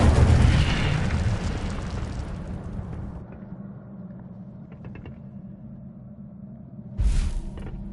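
Incendio fire spell cast in Hogwarts Legacy on PS5: a loud whooshing burst that fades into a low rumbling tail with faint clicks, then a second sharp flare near the end.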